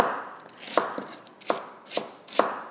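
A knife chops red onion on a cutting board in a few crisp, evenly spaced strikes, close and clear with no talking.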